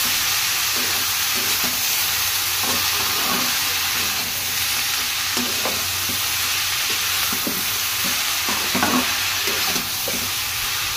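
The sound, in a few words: stirring chopped bottle gourd frying in pan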